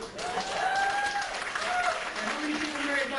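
A comedy-show audience breaks into steady, full-room applause, with cheers and a few whistle-like voices rising over the clapping throughout.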